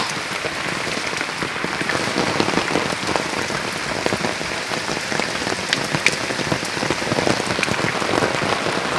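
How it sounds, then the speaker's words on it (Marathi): Heavy monsoon rain pours down steadily on rice fields in Konkan, a dense continuous hiss and patter of drops on surfaces with no talking over it. "पाऊस जोरात पडतोय ना"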